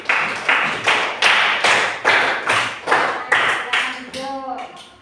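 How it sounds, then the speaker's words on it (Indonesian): Rhythmic bursts of applause in a fourth-grade classroom, about eight even rounds of clapping pulsing in succession, loud and close, ending with a brief ringing tone. "Tepuk tangan untuk kelompok B."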